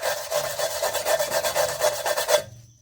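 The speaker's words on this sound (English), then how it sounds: "just a wire brush here. Clean up some of this as much as I can" A wire brush scrubs the parking brake contact points on a Ford F150 in about ten quick, rhythmic back-and-forth strokes, close and rasping, then stops abruptly.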